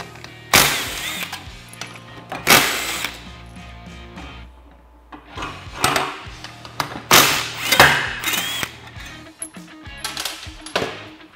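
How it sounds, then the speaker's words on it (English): Tools remove the 10 mm clutch bolts on a Polaris RZR XP Turbo during a Rev 1 clutch kit install, heard as a string of loud, sharp clanks and metallic knocks at irregular intervals with quieter handling between them. "we're gonna go ahead and remove all the 10 millimeter bolts"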